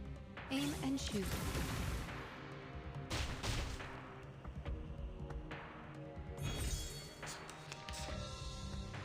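Several gunshot bursts from the game Reverse: 1999, set in a cave, sharp impacts scattered over a dense layer of music and effects.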